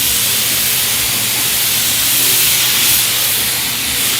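A pneumatic sprayer mists contact cement glue onto jet ski tray mat material in a loud, steady airy hiss that runs continuously without breaks.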